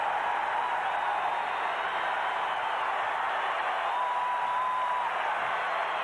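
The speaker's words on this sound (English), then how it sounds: "That gets the crowd going." Steady roar of a basketball arena crowd at a 1992 Dream Team versus Cuba Tournament of the Americas game, a continuous even wash of cheering with no distinct breaks, holding at one level throughout.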